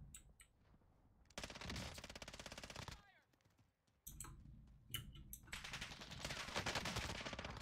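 FiNN LMG firing in Warzone (Modern Warfare), long sustained bursts of rapid automatic fire separated by brief pauses, loud and dense, with a voice faintly underneath.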